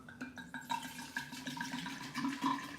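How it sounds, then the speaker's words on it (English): Liquid for a spring sangria pours steadily into a container, a continuous splashing, gurgling stream that rises and falls in strength throughout, close and without speech. "So all I gotta do is just pour all this in."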